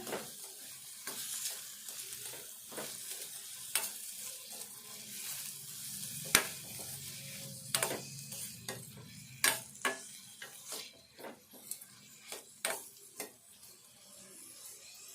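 Curry leaves and ginger-garlic paste sizzle and fry in a pan for an egg curry, with a spoon scraping and stirring in repeated close clicks and clatters against the metal over a steady frying hiss.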